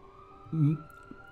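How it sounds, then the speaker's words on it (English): An ambulance siren sounds in the distance, a brief rising and falling wail at low volume that swells once and fades, with faint background noise around it. "here come the fucking ambulances"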